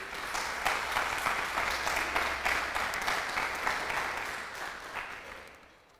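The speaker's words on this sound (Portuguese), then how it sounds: "Dá um aplauso ao Senhor aí" Church congregation applauding together, a broad, steady roar of many clapping hands that holds for several seconds and then fades out toward the end, with no talking over it.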